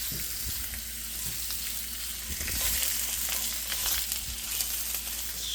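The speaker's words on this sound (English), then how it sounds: "All right, our pan is ready for the addition of our beef ribs here. You can go ahead and set them down here." Beef ribs hit a hot pan for birria and sizzle steadily, a dense frying hiss with occasional spatters and scraping as the pieces are set down and spread around; no talking.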